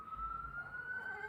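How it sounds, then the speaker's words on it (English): An emergency siren wails outside, a steady rising tone heard at moderate distance through a room, with rumbling traffic beneath and no talk. "So don't mind the sirens outside."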